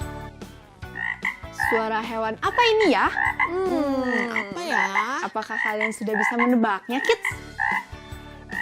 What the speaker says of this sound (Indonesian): Ini adalah suara hewan kodok.